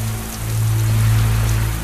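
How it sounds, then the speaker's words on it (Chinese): A heavy downpour of rain hisses steadily, a dense continuous wash over a low droning hum, with no voices. "滂沱大雨中"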